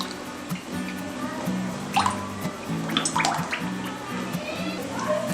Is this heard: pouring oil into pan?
yes